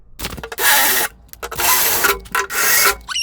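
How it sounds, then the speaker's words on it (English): Rivets being drilled out with a handheld drill during a repair on an overheating 858 unit, three loud grinding bursts of about half a second each, separated by short pauses, close to the microphone with no talking. "Let's drill these rivets out"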